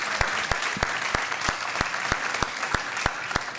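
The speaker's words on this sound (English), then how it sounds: "Give them that strong applause." Steady rhythmic clapping at a church service, sharp regular claps about three per second, close and alone, with a crowd-like hiss behind.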